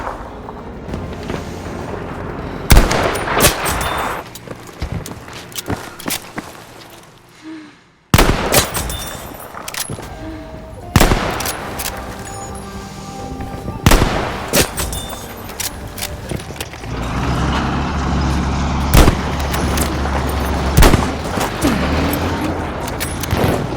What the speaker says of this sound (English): I'm going to show you guys some examples of some pretty crazy shots that I hit